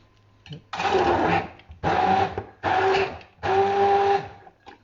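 A blender runs in four short bursts with brief pauses between, loud and close, the motor whirring through each pulse.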